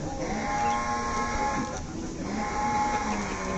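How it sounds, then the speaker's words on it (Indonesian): A sacrificial cow kept for the Eid al-Adha qurban slaughter outside a party office lows in one long, loud, steady call that fills the moment, with no talk over it. "Ada interupsi dari sapi."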